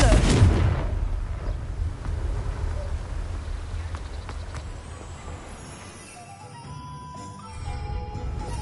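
Confringo blasting spell in a Harry Potter video game going off as a loud, sharp explosive burst at the start, then a long rumbling decay with faint tonal game sounds underneath.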